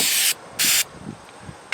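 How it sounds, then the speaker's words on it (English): Meguiar's fast wax sprays onto a car's plastic trim in two close, loud bursts of hissing spray about a quarter second each, followed by quieter rubbing and handling sounds. "So with the fast wax, you can spray it on or apply it to a towel and wipe it off"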